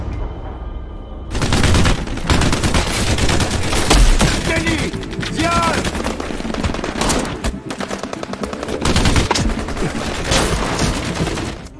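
A film battle scene fills with dense, continuous gunfire: rapid machine-gun bursts and overlapping rifle shots, loud and sustained, with occasional heavier booms.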